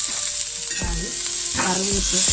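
Tomatoes and curry leaves sauté in an okra and capsicum masala curry, a constant bright sizzle running throughout with short scraping stirs and soft clinks of a spoon in the pan.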